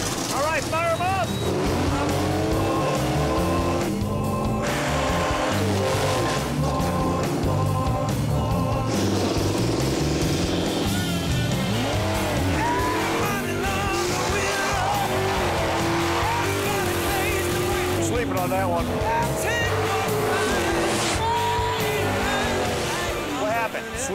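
Drag race car at an old-school final at Tucson Dragway firing up and racing, a loud, dense engine roar filling the whole stretch with pitch sweeps as it revs, people talking underneath.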